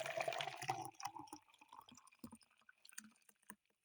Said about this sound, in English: Go ahead and pour in your frappe mixture.